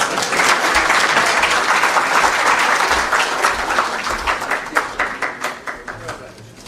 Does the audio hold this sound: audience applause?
yes